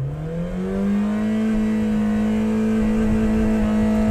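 A car engine held on its rev limiter near 6,500 rpm while in reverse gear, a loud, steady high-pitched drone that climbs briefly at the start and then holds flat without talk.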